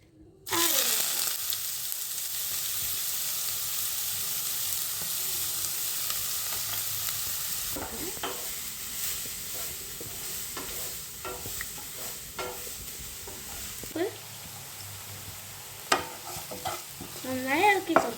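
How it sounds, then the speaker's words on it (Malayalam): Chopped onion sizzles steadily in hot oil in a pan, a continuous soft frying hiss with scattered scraping stirs and clinks throughout, no one speaking. "ഇനി നമുക്ക് നമ്മുടെ ഒനിയൻ ഇതിലേക്ക് ആഡ് ചെയ്യാം."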